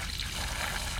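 Water gushing and trickling out of a clogged Yanmar YSM-8 diesel engine on a 26ft sailboat, a steady close splashing pour that runs unbroken and alone.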